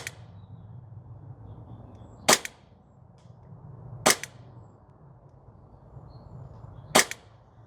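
Novritsch SSP28 airsoft sniper rifle firing at an outdoor range, three sharp isolated shots spaced a couple of seconds apart over quiet background hiss, no talking.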